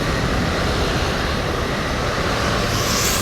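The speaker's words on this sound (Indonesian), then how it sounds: "ini ada bus ya" A bus rumbles in at a terminal in Palembang, heard as a loud, steady wash of engine and road noise with no distinct breaks.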